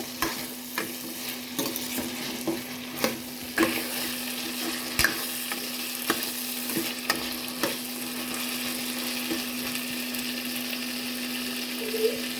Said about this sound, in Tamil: நல்லா கத்திரிக்காயும் முருங்கைக்காவும் நல்லா வெந்து வரட்டுங்க